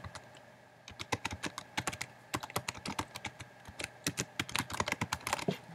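Someone types an email address on a computer keyboard, the keys clicking crisply and close up in quick irregular bursts with brief pauses.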